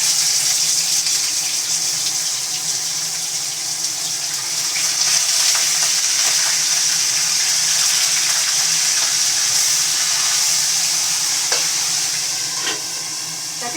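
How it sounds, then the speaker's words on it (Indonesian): Fish frying in hot oil in a home kitchen gives off a steady, bright sizzle and hiss that holds evenly throughout, close by, with faint crackles and no voices. "Ini ikannya mau digoreng ini ya."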